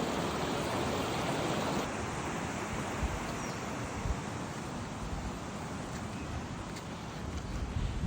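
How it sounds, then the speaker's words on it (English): Water running down a river stream, heard as a steady, close, broadband rush that stays even throughout with no voices. "just listening to the water runs down the stream"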